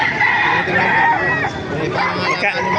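Roosters crow loudly and repeatedly at a busy chicken market in Baliuag, Bulacan, with overlapping calls and clucking from many birds, and faint chatter from people in the background.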